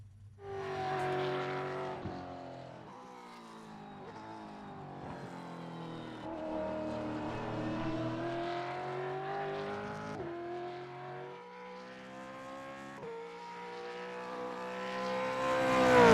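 A Holden A9X racing car laps Mount Panorama at Bathurst in 1976 trim in Assetto Corsa. Its engine note climbs and drops through repeated gear changes, loud and close, with no talk over it.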